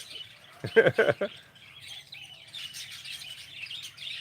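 Birds chirp and tweet in a quick burst of close calls, then softer twittering continues in the background.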